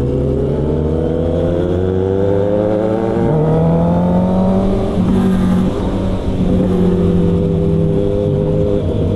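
Road traffic on a congested street in Baguio, heard as a steady, close engine drone with low humming tones that shift slightly as vehicles creep along, with no talk.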